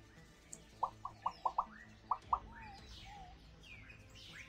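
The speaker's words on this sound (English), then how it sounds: "Chirping birds." Short, bright bird chirps in the MechWarrior 5 video game, about seven quick calls in two small bursts, then a soft, steady ambient bed.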